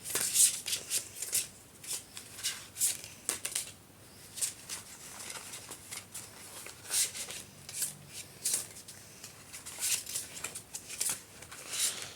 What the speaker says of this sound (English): I have this weird thing I do when I shuffle the cards.